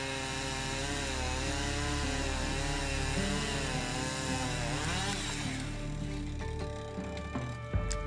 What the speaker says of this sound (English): when I run the chainsaw around these maple trees, it has to be done.